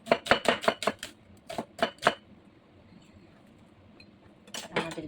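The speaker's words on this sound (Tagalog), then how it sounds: "Mag-chop na tayo ng ating aprikado, sibuyas." Onions are chopped with a knife on a cutting board, a quick burst of sharp, close knocks followed by a few spaced chops, a short pause, then another rapid flurry, with a brief spoken word in between.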